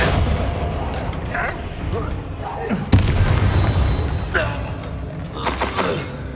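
An Expelliarmus spell is cast in the video game Hogwarts Legacy, a loud booming magical blast with a sharp crack near the three-second mark, set against busy combat effects and a voice.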